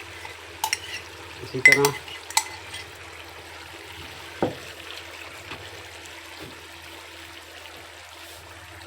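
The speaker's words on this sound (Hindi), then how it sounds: "अब हम इसमें डालेंगे जो हमने प्याज ग्राइंड किया था वो, और काजू और बादाम का जो हमने पेस्ट बनाया था वो भी डाल देंगे" Ground onion paste and cashew-almond paste dropped into a pan of frying chicken for Mughlai chicken handi, a brief burst of sizzling and stirring near the start that settles to a low, quiet simmer, with a short spoken remark.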